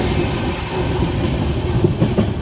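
A train running on the railway in India, a steady dense rumble of wheels and carriage noise with faint clickety-clack, continuous and fairly close, no voices.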